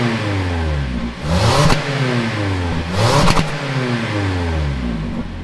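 A 2021 Toyota Corolla SE engine with a single dual-tip chrome exhaust idles nearby and revs up twice, each rev rising sharply then settling back to a steady rumble.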